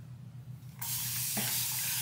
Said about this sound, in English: I don't feel like wetting my whole head, so we're going spray bottle.